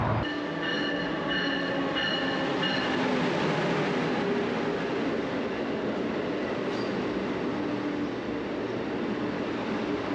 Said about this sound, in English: We're hopping on the train here in Van Nuys and headed north